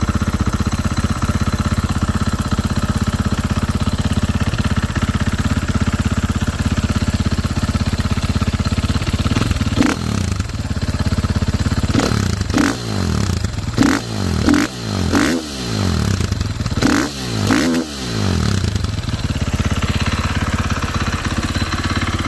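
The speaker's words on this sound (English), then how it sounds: "Husqvarna FE 501. Right now has stock muffler, stock cutter pipe, and I believe it still has the spark arrestor in it." A Husqvarna FE 501 dirt bike with its stock muffler, header pipe and spark arrestor idles loudly and continuously, with a cluster of blips and clattering knocks partway through before settling back to a steady idle.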